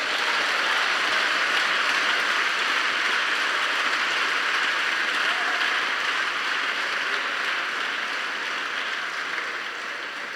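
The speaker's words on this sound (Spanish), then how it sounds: "Aplauda al Señor si lo cree." A church congregation applauds in a steady, dense wash of clapping that holds evenly for about ten seconds and fades slightly at the end, heard from within the room.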